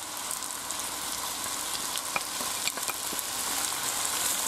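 Sliced mushrooms and garlic hit hot oil in a pan, giving a dense, even sizzle with occasional pops and a light scrape of stirring.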